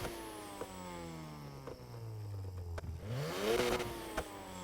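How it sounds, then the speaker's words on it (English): Tuned car exhaust in the NFS Heat video game revving up and down, with sharp popping bangs on the overrun; a sustained engine drone dips, then climbs into a louder burst near the end. "And a lot more pops and bangs."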